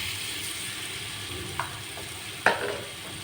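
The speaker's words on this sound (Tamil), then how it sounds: "அது கூட அத்திப்பழம் அதையெல்லாம் சேர்த்து வதக்கி எடுத்துடலாம்" Dates, raisins and figs are stirred in melted ghee, giving a quiet steady sizzle with soft scraping and a couple of small clicks of the spoon against the pan.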